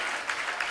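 A church congregation claps during a sermon, a brief burst of many hands with a couple of sharper claps standing out within the short, even wash of sound.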